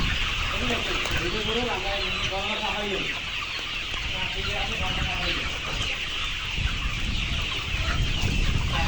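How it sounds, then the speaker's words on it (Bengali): Layer chickens cluck and squawk in a busy flock as they are caught on a farm in Kushtia while people talk nearby, the birds' calls coming in agitated bursts. "সবাই মুরগি ধরছে"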